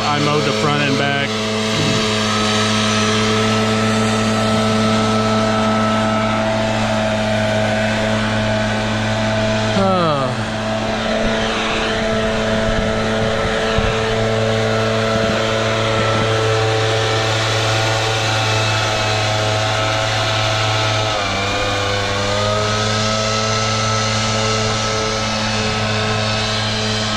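A leaf blower clears grass clippings after mowing on a landscaping job, a loud, steady droning whoosh that runs without pause for nearly half a minute, with slight shifts in pitch as it moves.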